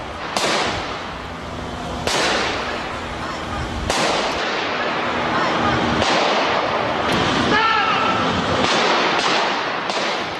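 Gunshots ring out outside a courtroom as someone chases a lawyer. Sharp, loud cracks come about every two seconds, each one echoing over a steady background noise.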